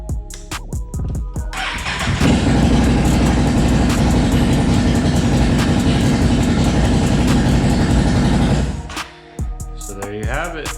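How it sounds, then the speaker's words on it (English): A Can-Am Outlander/Renegade 850 ATV engine, fresh from a full service, cranks and starts, then idles loud and steady for several seconds before shutting off, with faint clicks before and after. "we'll actually start the bike this time."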